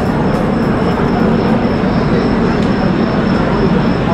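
The Gatimaan Express from Delhi to Agra rumbles at speed, a loud, continuous broadband roar of wheels and rail noise with no breaks, heard from inside the running train.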